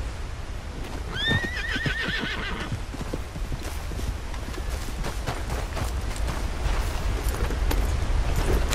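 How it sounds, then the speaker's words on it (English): A horse in Red Dead Redemption 2 whinnies once near the start, then its hooves clip-clop steadily and loudly throughout, close by, with no talking. "And we found this horse north of Bonnie's Ranch near the Lower Montana River."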